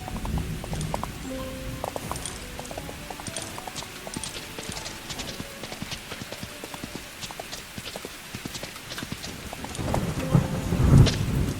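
Storm ambience in a horse racing video game: a constant wash of heavy rain with rumbling thunder and scattered hoof clip-clops, building louder toward the end.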